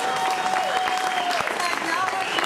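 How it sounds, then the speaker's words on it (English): Audience applause for a guest introduced at an interview event, a continuous spread of clapping held at moderate loudness while voices talk over it throughout. "please give a round of applause to Mr."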